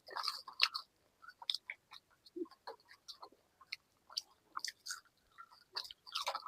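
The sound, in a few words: eating french fries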